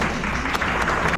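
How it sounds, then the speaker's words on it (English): Brief burst of loud, dense clapping from a preschool event audience welcoming children performing as garden characters. "Let's welcome them with a big round of applause."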